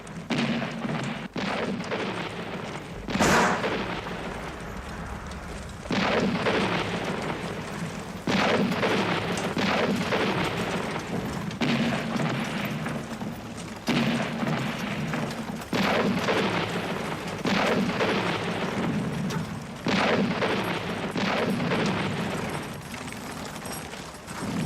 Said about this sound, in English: Those deep booms, that's the heavy artillery.